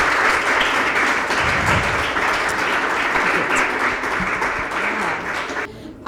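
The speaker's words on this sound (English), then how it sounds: "please clap for her. Like a hearty clap." Audience in a room clapping heartily as a woman walks to the stage, a dense, loud, continuous round of applause that stops abruptly at the very end.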